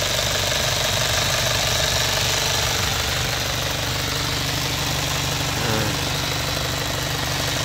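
A 2005 Isuzu Fuego engine idles steadily up close, a continuous loud mechanical rumble with a slight knocking texture and no voices over it.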